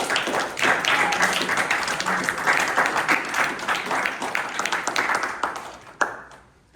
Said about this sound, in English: Can we all give a huge round of applause for Gavalier Khadija for that amazing icebreaker?